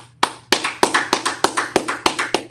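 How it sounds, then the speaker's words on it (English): Rhythmic group clapping at a Tuesday night Brotherhood class, with about ten sharp, evenly spaced claps that are loud and close, building a steady beat with no talking over it. "Let's clap it up."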